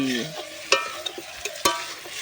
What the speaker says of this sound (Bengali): লবণ দিয়েও নেড়ে নিচ্ছি